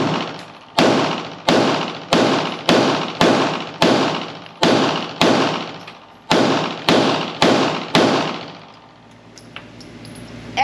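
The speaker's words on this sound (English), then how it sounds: "we're gonna finish up the 124 grain. Slide release is very nice. Gonna speed up the shots." Rapid gunshots from a Steyr Arms L9-A2 pistol firing 124 grain rounds, about a dozen sharp loud reports in a quick, fairly even rhythm with echoing decay, then a quieter tail.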